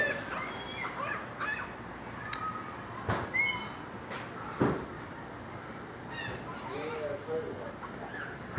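Seagulls squawk and call outdoors while eating frozen bread, with several sharp cries at scattered moments over steady background noise, and people talk faintly in between.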